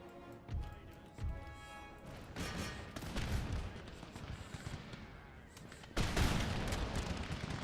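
Musket volleys in Empire Total War crack out in repeated rolling bursts, with a heavy crash of fire near the end, over continuous battlefield rumble and scattered voices.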